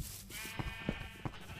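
Sheep in the Minecraft video game bleat in short, repeated calls, several distinct bleats close together over a faint steady background hum.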